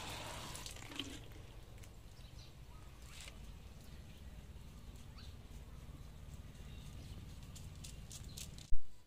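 Water poured over vegetable plants after an egg-shell fertilizer is applied: a faint, continuous splashing and trickle with small rustles, ending in a short louder knock.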